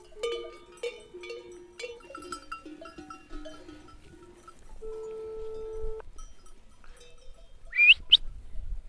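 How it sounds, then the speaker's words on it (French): A flock of ewes resting in an enclosure near a French village, with clanking cowbell-style bells ringing irregularly over soft bleats and a brief bird call near the end. "on a fait manger les brebis ce matin, et là elles sont dans un parc où elles chôment"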